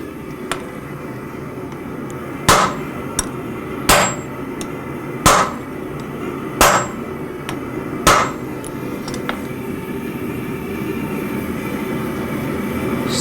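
A hammer planishes a forged adze bowl with five evenly spaced metallic strikes, each sharp and ringing, over a low steady background hum, followed by quieter lingering noise.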